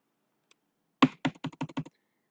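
Several sharp keystrokes on a computer keyboard: a single faint tap, then a quick irregular burst of about six crisp clacks, close and clear in an otherwise silent room.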